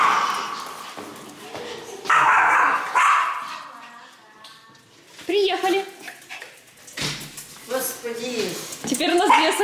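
Two small dogs bark, yip and whimper in short bursts at close range while people talk between the outbursts.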